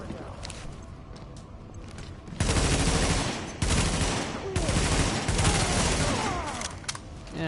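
Sustained bursts of automatic gunfire from Tom Clancy's The Division, loud dense volleys after a quieter opening, with short gaps between fusillades and faint voices beneath.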